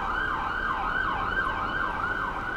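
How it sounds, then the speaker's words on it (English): An ambulance siren passes along a town street, wailing in a steady, repeating rise-and-fall cycle that stays loud and close throughout, with faint road traffic underneath. "Ambulance."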